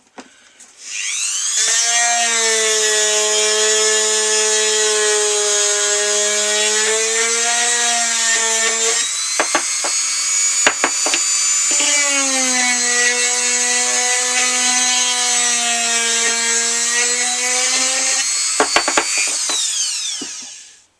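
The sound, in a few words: screw being driven into Boba Fett helmet piece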